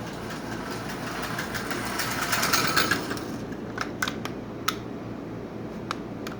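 A Marx 1666 toy train locomotive with slope back tender runs after a blast of WD-40, a close steady mechanical whirring followed by light irregular clicks and ticks as it moves along the track.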